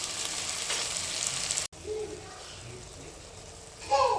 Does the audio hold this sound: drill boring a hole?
no